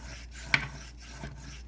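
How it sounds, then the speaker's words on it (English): A peeler scrapes along a carrot on a cutting board in a kitchen, soft rasping strokes repeating in a steady rhythm, close and fairly quiet, with no speech. "Again, peel, carrot,"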